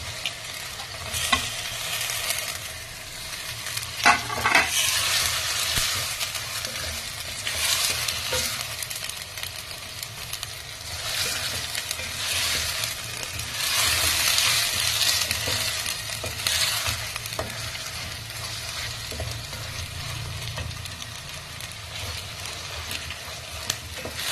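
Chopped tomatoes added to onion paste frying in a pan for a fish kurma, a steady sizzle with stirring and occasional scraping and clinks, moderately loud and unbroken.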